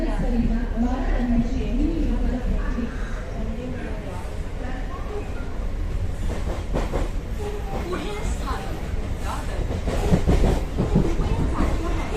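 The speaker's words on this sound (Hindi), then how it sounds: "ये ट्रेन छूट रही है, CSMT से छूटी" A Mumbai local train pulls out of CSMT station, with steady rumbling and rhythmic clickety-clack of wheels on rails building under nearby chatter and voices throughout.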